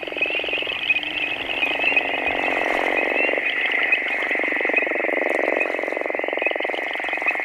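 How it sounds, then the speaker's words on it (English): Rare frogs calling at night in the Carolinas, a loud, close, continuous chorus of rapid pulsing trills that overlap without pause. "We've knocked around out here and heard about 5 of them calling, but I think we'll hear a lot more than that tonight."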